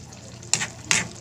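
Cabbage boiling in a covered pot on a home kitchen stove gives a low, steady simmer, broken by two short, brighter liquid splashes or bubbling surges close by.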